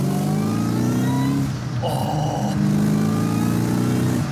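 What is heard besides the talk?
Terminator Cobra Mustang engine revving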